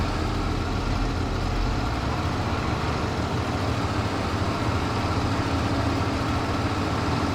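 A farming-game tractor engine runs at a steady low drone throughout, close and continuous, without speech.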